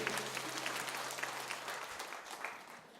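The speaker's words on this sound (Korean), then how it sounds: "영광의 주님께 오늘도 큰 박수를 올려드립니다" A congregation claps together during a Sunday church service, a fairly soft but continuous patter of many hands lasting about three seconds, with a low hum underneath.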